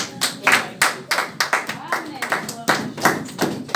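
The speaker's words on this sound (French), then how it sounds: "Acclamons pour la parole de Dieu." A church congregation applauds during a morning service, a run of close, uneven hand claps with rhythmic bursts and some murmuring voices mixed in.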